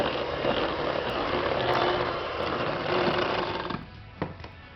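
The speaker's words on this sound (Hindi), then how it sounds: "1/4 कप मैदा जो है इसको भी हम बीटर की मदद से जो है इसमें मिक्स करते हैं" An electric hand beater whirs steadily as it mixes flour into peanut butter honey cookie dough, a loud continuous motor drone that slows and stops near the end.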